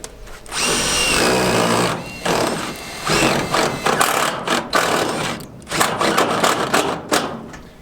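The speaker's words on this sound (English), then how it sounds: "Now you'll always hear us kind of screwing, unscrewing, and then screwing again, and that's because we're going through hems." A power drill drives screws into metal roof trim on a hunting cabin, running in loud repeated whirring bursts with brief pauses as screws go in, come out and go back in through the folded hems.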